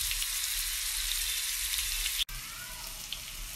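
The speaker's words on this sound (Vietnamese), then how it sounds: "Chúng ta chiên vàng đều các mặt của đầu tàu hũ." Tofu pieces fry in a pan of oil for a vegetarian fish-cake noodle dish, giving a steady, close, bright sizzle with a brief break partway through and no talk.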